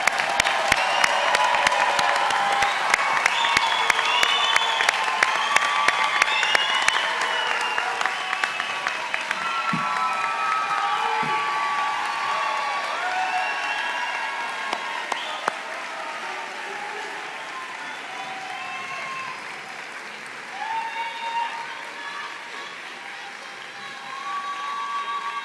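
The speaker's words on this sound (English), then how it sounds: "Let's give one more round of applause for all of our graduates." Sustained applause and cheering for graduates at an in-person university commencement ceremony, a large crowd clapping loudly with scattered whoops and shouts, slowly thinning toward the end.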